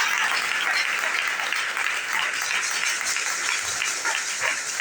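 A church congregation applauds during a Sunday sermon, producing a dense, continuous roar of clapping that stays loud and even throughout.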